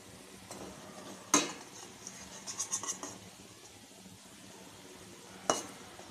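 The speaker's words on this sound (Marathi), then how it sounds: "अशाच प्रकारे तुम्ही सर्व ब्रेडचे तुकडे फ्राय करून घ्या छान" Bread pieces frying in a pan for bread chaat give a faint, steady sizzle, broken by a few sharp scrapes of a utensil against the pan.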